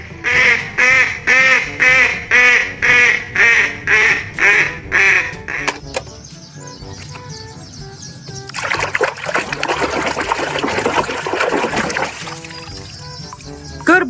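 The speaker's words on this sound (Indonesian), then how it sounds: "Bebek angsa." A duck quacks about ten times in a steady, loud rhythm, then trickling and splashing water follows, with a faint voice briefly in the background.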